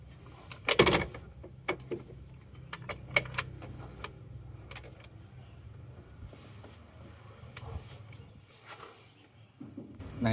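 A seized car engine, rebuilt only 200 km earlier, gives faint, irregular metallic ticks and knocks as its crankshaft is turned by hand with a socket wrench, close by in a quiet workshop.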